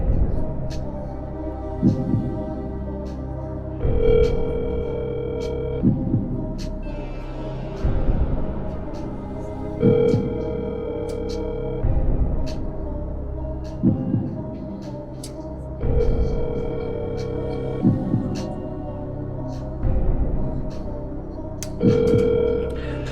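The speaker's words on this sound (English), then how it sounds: "I'm going to try to see if I can call somebody else" A phone call rings out repeatedly with an evenly spaced electronic ringback tone, each burst lasting about two seconds, while a voice talks quietly underneath.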